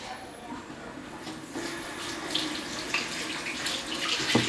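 Water runs steadily from a kitchen tap while hands are rinsed during meatloaf preparation, a continuous broadband hiss with splashing that grows slightly louder toward the end, with faint background voice.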